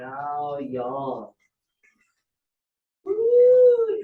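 A person gives a loud, drawn-out vocal yawn during a qigong forward-bend exercise. It follows a short stretch of voiced sound and a pause of silence, and it has a tonal, howl-like sweep.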